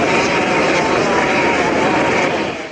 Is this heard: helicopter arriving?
yes